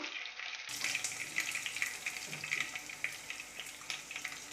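Dried red chillies sizzle steadily in hot oil for Kerala koottucurry, an Onam dish, with a continuous close frying hiss after a brief quieter start and no talking.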